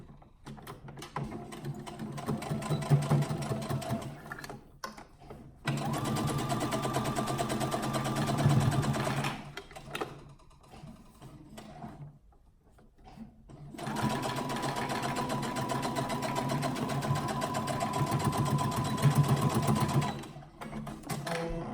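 A sewing machine stitches quilt binding onto fabric with a 3/8 inch seam allowance, running in steady whirring bursts that are loud and close, broken by short pauses, with no voices.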